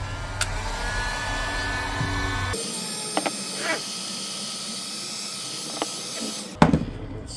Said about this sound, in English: So let's use a heat gun.